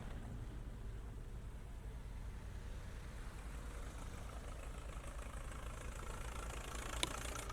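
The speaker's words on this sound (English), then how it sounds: "And there's that tractor again." A tractor idles at a military vehicle show, a faint, steady low rumble from some distance that holds unchanged throughout.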